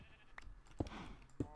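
Sheep in Minecraft bleat in short, close, clear calls, three separate bleats spaced across a second and a half with quiet gaps between.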